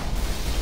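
Missiles detonate in the space combat game Starfarer, a brief loud rumbling blast filling the whole moment with dense low boom and no talk over it.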